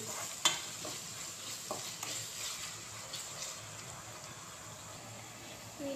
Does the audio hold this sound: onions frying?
yes